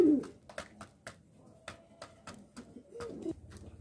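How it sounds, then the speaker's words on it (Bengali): A pair of black fantail pigeons coo softly and repeatedly, low murmuring calls close by, with sharp clicking and rustling sounds scattered between them. "এখানে দেখতে পাচ্ছেন এক জোড়া ব্ল্যাক ফ্যান্টেল কবুতর রানিং পেয়ার"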